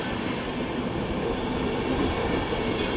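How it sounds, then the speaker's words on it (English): A passenger train with a mock-ICE driving van trailer and a locomotive rumbles steadily through Köln Hauptbahnhof, a continuous close, heavy rolling roar with faint wheel clatter. "It's got the pretend ICE DVT at the front and presumably a loco at the back."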